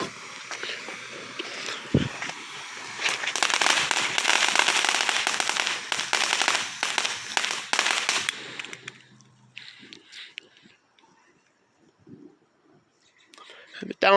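Pre-Fourth of July fireworks and firecrackers go off nearby in a dense burst of rapid crackling pops, loud for several seconds before fading into scattered faint crackles, with a little quiet talking around them.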